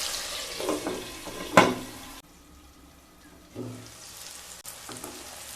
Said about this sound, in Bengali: মিশিয়ে নিয়ে সমস্ত উপকরণগুলোকে ভালো করে ভেজে নিয়ে তারপর ফিরে আসছি